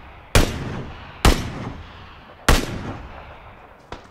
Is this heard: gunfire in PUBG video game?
yes